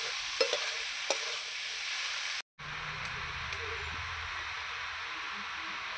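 Chopped ash gourd fries in a pan while being stirred, a soft continuous sizzle broken by a few light scrapes and clicks of the spoon and one brief dropout.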